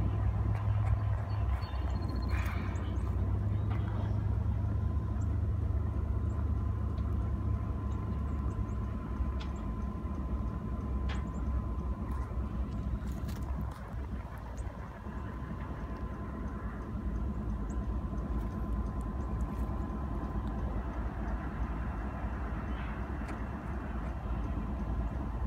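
Railroad engines doing switching work in a hump yard in Knoxville, Tennessee, a steady low diesel rumble with a faint tonal hum, heard from a distance and continuous throughout with no talk.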